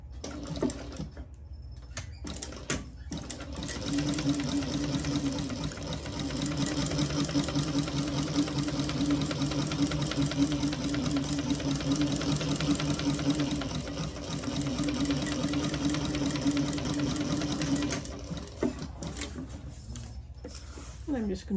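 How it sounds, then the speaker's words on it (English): Sewing machine topstitching fabric from the raw edge of a tote-bag pocket: a steady, continuous motor whir running for about fourteen seconds, close and fairly loud, with brief handling noises before and after. "I'm going to top stitch from the raw edge."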